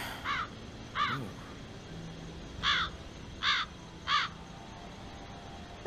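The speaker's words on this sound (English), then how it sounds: "Hello there, Mr. Crow." A crow caws five times in short, separated bursts over a quiet background, with a game-like ambient hum beneath.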